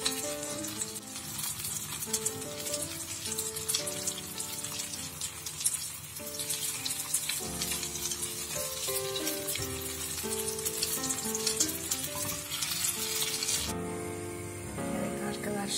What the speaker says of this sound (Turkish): Bir kısmını da tavaya alıyorum, yağda kızartıyorum.